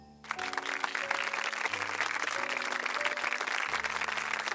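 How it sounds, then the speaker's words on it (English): An audience at a National Honor Society induction ceremony breaks into applause for new members, steady dense clapping from many hands starting after a brief quiet moment and continuing evenly throughout. "Please join me once again in applauding all of our new Honor Society members."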